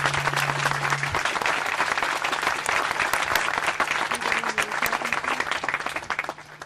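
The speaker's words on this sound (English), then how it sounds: "would you please just join me in a round of applause for Jeremy?" Outdoor audience at a historic cemetery dedication bursts into steady, close clapping that carries on evenly for several seconds before thinning out at the end.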